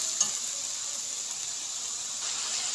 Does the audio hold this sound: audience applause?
no